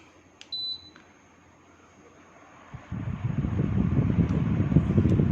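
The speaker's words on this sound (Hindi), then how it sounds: "स्विच ऑन करते ही एक बीप की साउंड आई है जो बताती है कि इसमें पावर आ चुकी है।" An Atomberg Efficio+ 400mm pedestal fan gives a single short, high electronic power-on beep, followed by a brief second chirp, and then a steady fan whoosh rises after a few seconds and continues.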